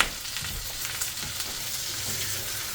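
Chorizo frying in oil while being stirred, a dense close sizzle with soft scraping and bumping from the stirring, steady and with no voices.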